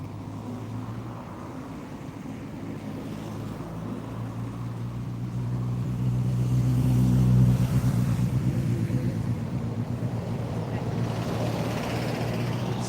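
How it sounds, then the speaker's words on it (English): Cars speed past a cemetery outside the Battle for Normandy museum in Normandy, a steady traffic rumble that swells as a vehicle passes near the middle and then eases off, continuous throughout. "It's not the most peaceful cemetery with all the cars flying by."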